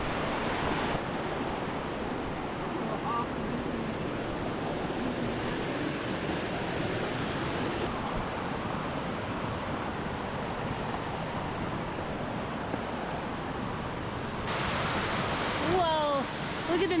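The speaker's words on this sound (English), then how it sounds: "we're coming up to the first view of the waterfall from underneath. It is roaring." A 155-foot waterfall in Idaho roars from directly underneath, a dense continuous wash of falling water that drowns everything, with brief voices rising near the end.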